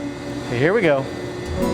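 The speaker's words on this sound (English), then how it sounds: "that sound, that's the buffers releasing the air" Air hisses out of the Fremont Bridge buffers as a pitched, wavering whoosh that rises and falls over about half a second, close and fairly loud above a steady mechanical hum.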